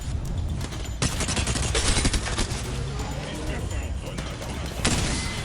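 Continuous gunfire in the video game Apex Legends, dense rapid shots and bursts rattling loudly throughout, with sharper cracks standing out near the start and end.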